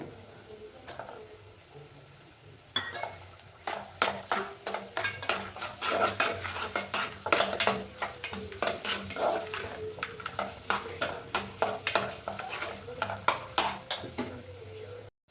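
Grated raw mango being stirred in a pan for mango rice, a busy run of scraping, clinking stirs with a soft sizzle underneath, starting after a quiet opening and continuing steadily up close.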